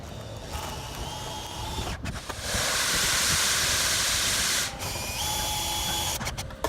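A power drill drives screws into a metal gutter downspout adapter, whirring in short runs with one long steady buzzing stretch in the middle, close and loud, no voices.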